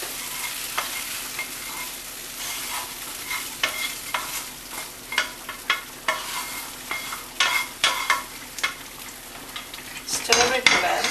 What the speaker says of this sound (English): I'm going to add this tomato mixture to it.